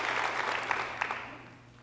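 An audience at a health care town hall with Senator Cantwell gives a round of applause, a soft wash of many hands clapping together that gradually fades toward the end.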